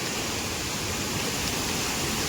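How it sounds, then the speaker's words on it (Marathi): A small monsoon rain-swollen stream beside a little bridge on a trail up to Rangana fort, rushing in a steady, dense, loud wash of water with no breaks and no talk. "बघा हे ओहाळात बघा पाणी किती इला"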